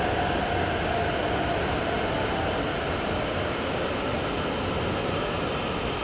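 A Shinkansen bullet train roars steadily through a station at close range, a dense continuous rushing noise with a high whine running throughout.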